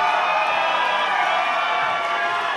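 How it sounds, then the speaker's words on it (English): Sustained roar of a crowd cheering at a boxing fight between two women at Cambridge Raceway, a dense wall of voices with whoops, loud and steady throughout with no single voice standing out. "The crowd's really getting behind this fight."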